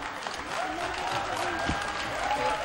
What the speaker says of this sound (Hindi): चले तालियां बजाएं सारे।